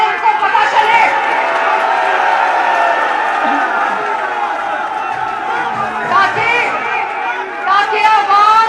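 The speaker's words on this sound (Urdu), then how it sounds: "یہ نعرے جو آپ لگا رہے ہیں" A large crowd at a political rally in Sheikhupura, a loud, dense roar of many voices chanting and shouting together, sustained throughout with rising swells.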